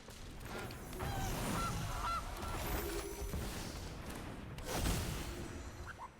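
A goose honks from the MTG Arena video game as a Goose card is sacrificed: a steady, nasal honking call that runs for several seconds over a soft game background and swells again near the end.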